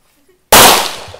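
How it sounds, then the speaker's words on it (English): A single loud, close gunshot at an outdoor gun range cracks out after a near-silent moment, followed by a short decaying echo. "he promised he's gonna shoot all that five yellow"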